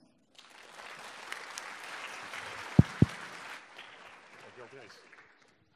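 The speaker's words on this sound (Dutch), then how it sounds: "graag een applaus voor hem" Children and parents in a university lecture hall clap for a speaker at a children's university session, a moderate burst of applause with a couple of sharp thumps near the microphone, fading out toward the end.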